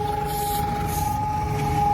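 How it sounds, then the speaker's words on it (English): Air raid sirens sounding in Ukraine as a warning to take cover, a steady sustained wail held throughout against a low background rumble, with no talk. "So that's air raid sirens going on right now, and they're basically telling people to take cover."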